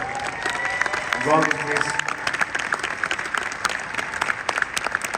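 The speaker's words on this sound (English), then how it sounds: "A round of applause for" An audience applauds at a motivational talk, steady dense clapping throughout with a brief swell of crowd noise, while someone speaks over it near the start.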